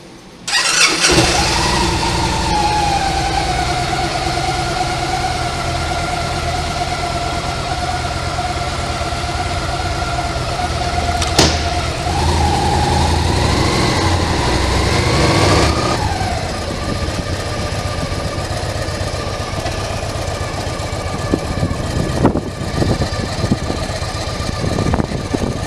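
Car engine starts and runs steadily at idle, loud and close, with a brief rise in revs partway through before settling again.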